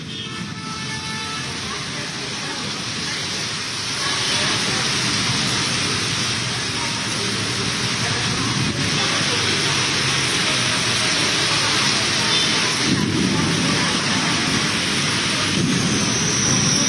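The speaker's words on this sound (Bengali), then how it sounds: "তারপরেই প্রবল ঝড় বৃষ্টি সঙ্গে বজ্রপাত" Heavy storm over Kolkata, with dense steady rain pouring loudly throughout and low rumbles of thunder rolling beneath it.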